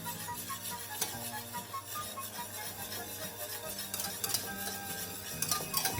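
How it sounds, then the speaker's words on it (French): Butter being whisked into a sabayon off the heat, a steady close stirring and scraping of a whisk against the bowl that runs continuously and softly throughout. "hors du feu, comment dire, on va monter au beurre gentiment"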